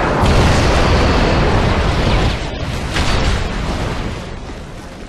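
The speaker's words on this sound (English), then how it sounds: "Friendly Predator missile inbound." Loud, continuous booming blasts from Predator missile strikes in a military video game, a dense roaring explosion that dips and swells again over several seconds with no talk.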